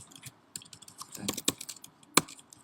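Sparse, irregular keystrokes tap on a computer keyboard as NodeJS and AngularJS code is entered, with crisp, close clicks and a few sharper key hits separated by brief quiet gaps.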